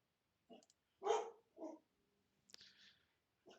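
A dog indoors gives a few sharp, spaced barks and yips at a squirrel, moderately close, with a faint click in between and quiet stretches around them.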